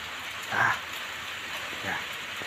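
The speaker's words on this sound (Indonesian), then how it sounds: "Cuaca hujan bos ini." Steady rain falling beside rice fields at harvest time, an even hiss throughout, with a couple of faint distant barks or calls rising briefly above it.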